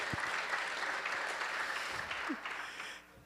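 A church congregation claps together in a dense, steady burst of applause during a worship service, which fades out at the end.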